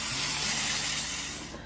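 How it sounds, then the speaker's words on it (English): Baker's Joy nonstick baking spray is sprayed liberally into a baking pan, giving a close, steady aerosol hiss that runs unbroken for the whole moment and fades slightly at the end. "So I'm gonna go ahead and spray this"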